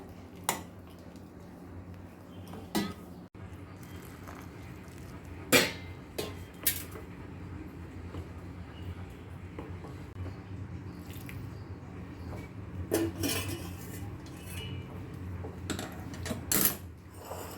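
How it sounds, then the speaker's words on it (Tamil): Soft, wet squishing and scraping as ragi flour dough is mixed with water in a metal bowl, with scattered sharper clinks and taps against the rim, close up and quiet. "இப்போ இதில் கொஞ்சம் கொஞ்சமாக ஊற்றி நம்ம நல்லா கலந்துக்கலாங்க."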